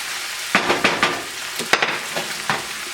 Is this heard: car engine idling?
no